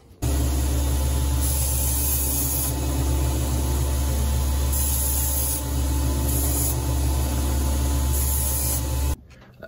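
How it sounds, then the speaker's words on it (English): Belt sander fitted with a 400 grit belt rounding the corners of a handmade knife, a loud steady whir and grinding hiss that runs continuously for about nine seconds, then cuts off abruptly. "I'm going to use a 400 grit belt while rounding out the corners"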